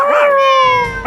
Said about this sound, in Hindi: अरे सारे कुत्ते तो मेरे पीछे आ रहे हैं